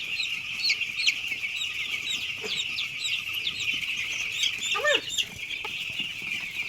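Chickens on a poultry farm keep up continuous overlapping clucks and squawks nearby, with a louder call standing out near the end above a busy flock murmur.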